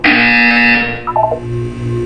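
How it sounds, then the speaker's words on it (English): A sustained electronic buzzer tone from the Portal 2 video game sounds loud and steady, then drops into a short run of stepped tones before settling into a lower hum. "When you hear the buzzer, look down at the floor."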